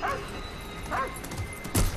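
A dog in the Call of Duty video game yelps and whimpers after being hit, giving two or three short sharp cries over faint background game sound.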